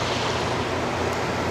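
Waves from a passing motor tender slap against a yacht in a marina, a dense steady wash of water and wind noise throughout.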